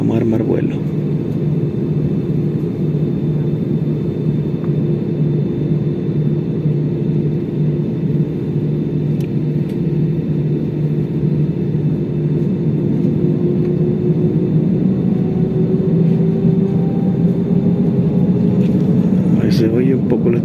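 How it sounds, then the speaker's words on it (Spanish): A passenger airplane's turbine engines run on the runway before takeoff on a flight to Panama City, a steady loud rumbling roar with a faint high whine, heard from inside the cabin throughout. "Se oye un poco la turbina"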